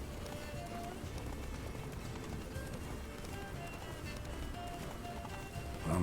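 Galloping hooves of Geralt's horse Roach in The Witcher 3, a steady muffled clip-clop running under ambient noise, fairly faint and continuous throughout.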